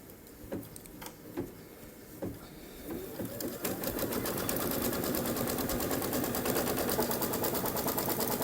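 Embroidery sewing machine stitching fabric down in an embroidery hoop, starting with a few separate thumps and then settling into a steady, fast, continuous mechanical whir that runs close and loud to the end, with no talking.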